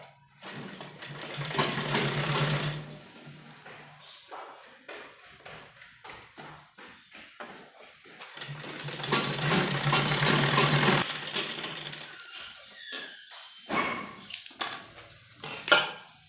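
Sewing machine stitching baby nappy fabric, running in two long steady whirring bursts with quieter handling clicks and taps of the cloth in between, close and clear with no talking.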